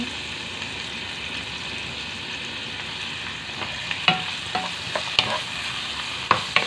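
An eggplant omelette sautés in a pan of oil, making a constant sizzle broken by sharp splattering pops and crackles that come more often toward the end.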